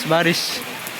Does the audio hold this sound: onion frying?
no